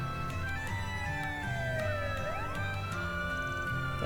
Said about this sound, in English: A police siren?